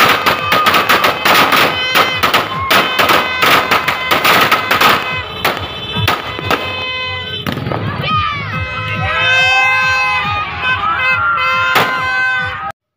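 Rapid crackling bursts of firecrackers exploding in dense volleys during a New Year celebration, then a few sharp pops amid distant crowd noise and ringing tones.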